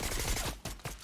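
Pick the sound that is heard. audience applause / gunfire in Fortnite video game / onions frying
gunfire in Fortnite video game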